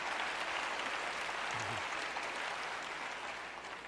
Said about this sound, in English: I'm going to have less applause